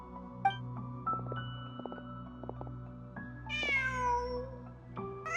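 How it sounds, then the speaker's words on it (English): A cat meows in the video game Genshin Impact, giving several drawn-out, rising and falling calls over a soft, steady background tone. "Just a cat."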